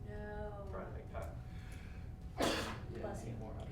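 A single sharp sneeze bursts out during a football press conference, loud and close, with people talking quietly around it.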